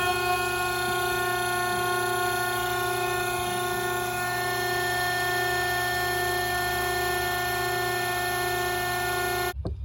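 A hydraulic pressure test unit runs beside a Cessna 414 during gear testing, a loud steady electric-motor drone with a high whine and constant pitch that holds for about ten seconds and then cuts off abruptly at the end.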